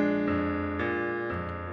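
Blues piano played with sparse shell voicings over changes a half step above the standard key: three sustained chords struck in turn, close and clear, with no talking.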